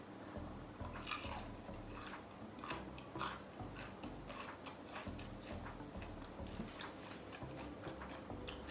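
Crispy mushroom fritters being bitten and chewed close to the mic, with repeated sharp crunchy bites and wet mastication throughout, no talking.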